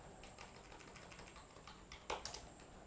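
Keystrokes on a computer keyboard, mostly faint taps over a steady background hum, with a short burst of three or four louder clicks near the end.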